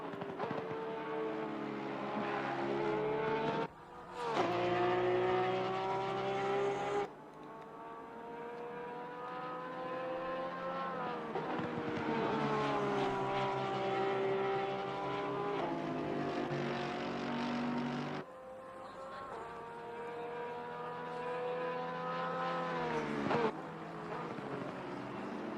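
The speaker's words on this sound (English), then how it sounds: "Turned it up a little bit so you could hear the engines roar a little more so." Race car engines roar in a sim racing game at the Zolder circuit, a loud continuous engine drone with rising and falling pitch as the cars shift gears. Brief drops mark gear changes and corners.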